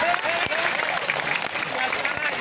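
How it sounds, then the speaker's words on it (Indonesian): Applause at a public religious gathering in a village, a crowd clapping together in a steady, fairly loud burst that runs the whole time, with voices mixed in underneath. "tepuk tangan dulu dong"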